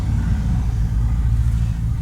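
Deep rumbling of a car engine nearby outside, loud and continuous, without any talking.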